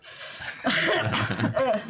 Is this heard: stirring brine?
no